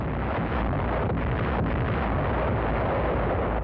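Bombardment during an island invasion produces a dense, continuous rumbling roar of explosions, loud and unbroken with faint bursts within it and no voices.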